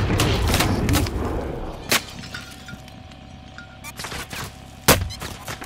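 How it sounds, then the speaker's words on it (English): Gunfire in the Call of Duty: Modern Warfare video game: several sharp, loud shots crack out at irregular moments, with a ringing tone and quieter rumbling battle noise between them. "They're shooting at me!"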